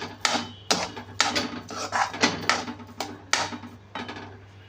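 A spoon stirs beetroot halwa with melted sugar in a pan, knocking and scraping against the metal in a quick, irregular run of close, sharp clatters. No one speaks.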